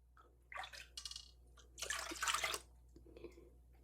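Strained Jamaican sorrel drink being poured, a few short splashing bursts of liquid with a longer, louder pour in the middle, fairly close and quiet overall.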